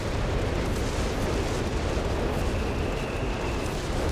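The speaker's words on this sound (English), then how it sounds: "More whiz-bang shots coming in for the Allies." Whiz-bang rocket artillery shells exploding in Company of Heroes 3, a steady, loud roar of blasts and rumbling detonations blending together without a break, with no voices present.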